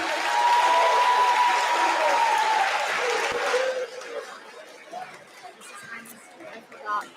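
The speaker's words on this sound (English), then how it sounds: "Give everybody a round of applause." Audience applause at a middle school promotion ceremony, loud dense clapping with crowd chatter for about four seconds, then fading into scattered claps, murmuring voices and a few louder shouts.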